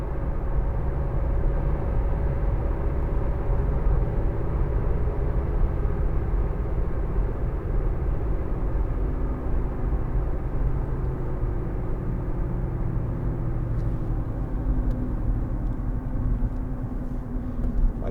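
Steady low roar of road and tyre noise inside a 2014 Audi A1 1.6 TDI Sport three-door hatchback, with worn rear tyres droning from the back; a continuous, even rumble lasting throughout with no talking.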